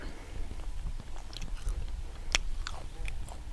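Someone bites into and chews soft, juicy grilled pork leg outdoors, soft wet chewing with one sharper bite near the middle, heard up close over steady background noise.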